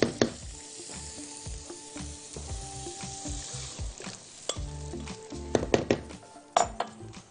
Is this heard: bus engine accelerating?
no